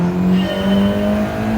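A Mitsubishi Lancer Evolution engine in a sim racing game pulls hard from the start with no warm-up lap, a loud, close, steadily rising engine tone with no talk over it.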